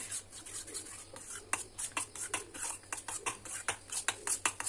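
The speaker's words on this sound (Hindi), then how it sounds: "लगातार इसको चलाते रहेंगे धीरे धीरे देखिए वो थिक हो रहा है" A thickening bun-dough mixture is stirred in a pan over a low flame, making repeated soft scraping and clicking strokes of a spoon against the pan in an uneven rhythm, close and fairly quiet with a low background hum.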